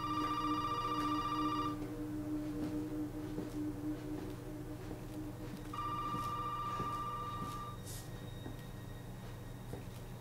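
An old telephone in Resident Evil 7 rings in two long electronic bursts, one at the start and another midway, over a low droning horror ambience with scattered creaks.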